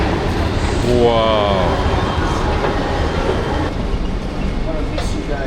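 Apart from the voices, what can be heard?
train ride in Morocco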